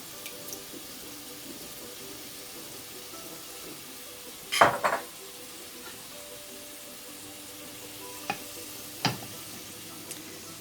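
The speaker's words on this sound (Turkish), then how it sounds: "Daha sonra şöyle konserve domates boşaltıyorum biraz." Canned tomatoes go into a hot sizzling pan, a low constant sizzle broken by a few wet splashing bursts and soft clacks, the loudest near the middle.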